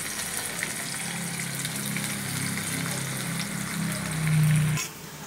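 Chopped onions fry in hot oil in a wok, a steady close sizzling hiss that swells briefly near the end and then drops off abruptly.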